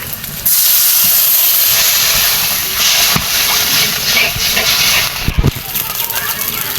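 Water poured into a hot pan of frying oil with onion and green chilies for a fish curry, giving a loud, steady steam hiss that starts abruptly and continues throughout, with brief clatters near the end.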